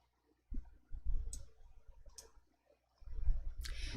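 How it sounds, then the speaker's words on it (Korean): A few sharp clicks from a computer mouse land on an OK button in an Excel dialog, with soft handling noise between them, close and fairly quiet. "확인을 클릭해 주세요"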